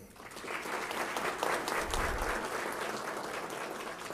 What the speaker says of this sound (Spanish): Asimismo, deseamos extender este voto de aplauso a todas las autoridades presentes